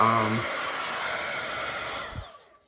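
A heat tool blowing a steady, close rush of air across alcohol inks on a DIY metal tag, holding loud and even before cutting off near the end, with a brief knock afterward.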